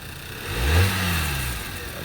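A jump-started 2011 Volkswagen at a police towing auction runs close by, its engine rising in a brief rev and then holding at a steady mid-pitched hum.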